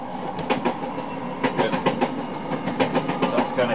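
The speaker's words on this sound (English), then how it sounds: "Oh, train." A train rolls past on its rails, loud and close, with steady clickety-clack beats from the wheels repeating over continuous rumbling rail noise throughout.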